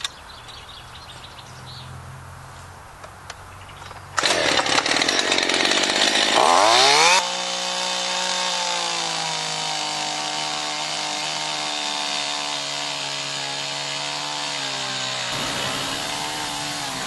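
A steel chainsaw starts up and revs loudly, then settles into a steady, close running drone for about ten seconds before dropping off, with faint birdsong in the quiet opening.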